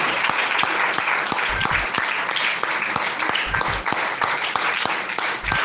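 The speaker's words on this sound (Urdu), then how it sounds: "میرے یسوع کے لیے ایک بار زوردار تالیاں۔" A church congregation claps loudly and continuously, a dense crowd applause with a few sharper individual claps standing out, and no speech over it.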